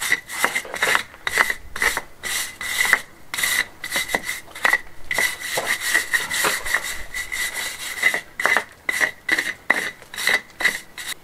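A tool rubs back and forth over drying lime mortar on a Spanish farmhouse wall, giving a rhythmic, gritty rasping of steady strokes that stays close and loud throughout.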